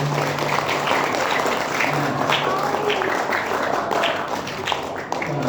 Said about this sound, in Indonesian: Tepuk tanganlah dulu Bapak Ibu.